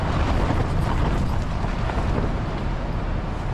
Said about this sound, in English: Yeah, you can hear it banging on the tent